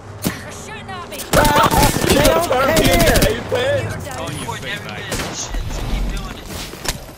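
Gunfire from a video game rattles in repeated bursts through a multiplayer match while a voice talks and shouts loudly over much of it, the shots close and sharp beneath the speech.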